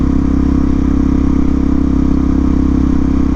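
Carbureted motorcycle engine idling steadily just after starting, a loud, close, continuous low rumble with a mechanical clatter and no talking.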